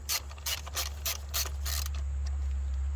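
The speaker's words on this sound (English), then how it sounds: "So I'm going to remove the plugs and give them a look" Ratchet working on ignition coils and spark plugs of a Honda CR-V, five quick rhythmic clicking bursts close up over a low steady hum, then fading to the hum alone.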